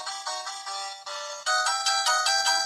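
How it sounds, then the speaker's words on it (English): A bright electronic phone ringtone repeats in short melodic bursts, close and loud, on a morning radio show as a listener calls in, with no voices over it. "It's the phone. Somebody calling in, but they didn't want to speak."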